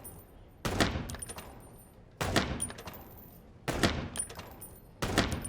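Four bursts of gunfire at a shooting range in the video game Chicken Police, each a sharp loud volley with metallic ringing tails, evenly spaced about a second and a half apart.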